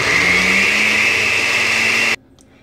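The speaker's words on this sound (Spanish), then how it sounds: "Y lo llevamos a licuar." A kitchen blender whirs loudly and steadily, blending a keto bread batter made with almond or coconut milk, then abruptly shuts off, leaving near silence.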